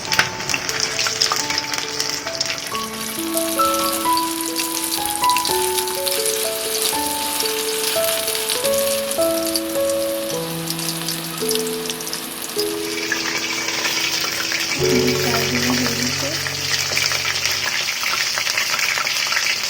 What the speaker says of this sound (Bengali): নিচে ভাজতে হয়, তাহলে মাংসটা ভিতরে ভালোভাবে হয়। আমি একটু উল্টিয়ে দিচ্ছি।